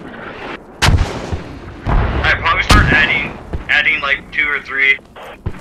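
Mortar rounds fire in the Squad military shooter game, with loud, close, heavy booms and a lingering rumble, while radio chatter and voices run in the background.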